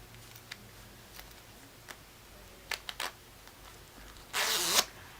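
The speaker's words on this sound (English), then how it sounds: "It's got one zipper here and one zipper here." A jacket zipper is pulled in a few short, close rasps, ending with one longer, louder zip stroke near the end, with faint ticks and handling noise before it.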